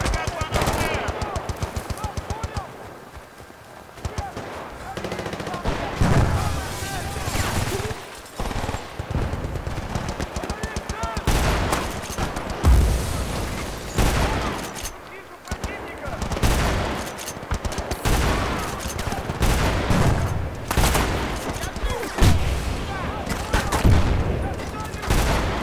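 Shotgun fire from Battlefield Bad Company 2 comes in repeated loud blasts, with bursts of other gunfire and game noise and a voice talking at times.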